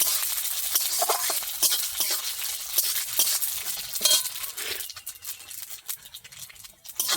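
Panch phoron spices fry in hot oil for a mango pickle, a close, crackling sizzle mixed with stirring scrapes and light clinks that thins out toward the end.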